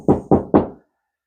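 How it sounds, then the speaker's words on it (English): Three firm knocks on wood in quick succession, close and crisp, then silence, in a garage where a repaired S10 pickup with new valve seals and head gaskets has just gone out. "Knock on some wood."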